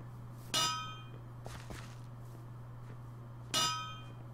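Two sharp metallic stone-hammer strikes in the Minecraft mod Pixelmon ring out about three seconds apart, with a few softer knocks between them over a low steady hum.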